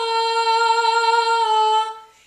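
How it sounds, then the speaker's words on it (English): A single sustained sung note carries a steady, even vibrato, held clear and strong for about two seconds before cutting off. "a good healthy vibrato would sound something like this"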